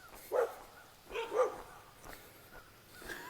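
Several dogs, including a brown Labrador and a chunky bulldog, bark outdoors along a hiking trail, with a couple of moderately near bursts of barking separated by quieter gaps.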